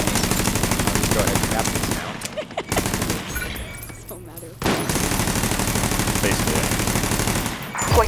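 Sustained automatic gunfire during a Division 2 Domination multiplayer match on Xbox One X, dense and loud for most of the stretch, with a brief lull in the middle before the rapid firing resumes.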